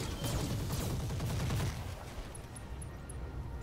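A machine gun fires in the Roguetech BattleTech video game, a rapid rattling burst for about a second and a half that then gives way to quieter rumbling game ambience and a few faint clicks.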